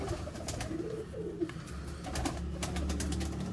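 Soft, low cooing from a Teddy pigeon bred by Khawaja Mujeeb, repeated murmuring coos over a faint background hum, with a few light clicks and no voices.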